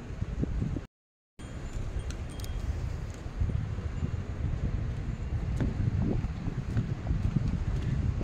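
Strong wind buffets the microphone at Bihu Lake Park in Taipei, a steady loud rumble of gusts with a brief cut-out near the start and no one speaking.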